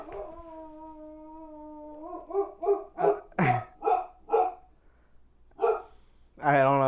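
A boxer dog lets out a long, wavering howl, then a quick run of loud, close barks, a short pause, one more bark and a closing whine.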